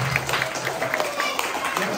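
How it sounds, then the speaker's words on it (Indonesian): A group of students at an in-house anti-bullying training claps for group 8, a short burst of scattered applause heard under a speaking voice. "Sekali lagi kita berikan tepuk tangan untuk kelompok 8."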